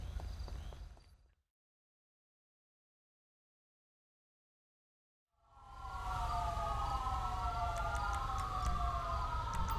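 Ambulance siren from the video game GTA 5 wails in a steady, looping sweep, loud and close, rising in after a few seconds of silence over a rumbling in-game background.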